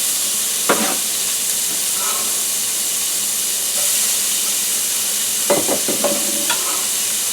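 Onions hit a hot frying pan for vegan sautéed French cut green beans, giving a steady bright sizzle throughout, with a few clinks and stirring scrapes near the start and again toward the end, no talk.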